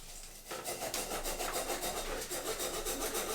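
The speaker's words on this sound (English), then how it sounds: "Just kind of going with the grain of the file here to try to get the gunk out." Gunk being scrubbed out of the teeth of a fairly new metal file along its grain, a steady run of rhythmic rasping strokes, close and moderately loud, with no talking.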